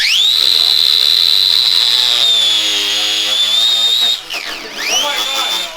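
An angle grinder cuts metal on a ninth-generation Honda Civic during a turbo kit install, a loud piercing whine holding steady, then dipping and wavering as the disc bites, close up and continuous.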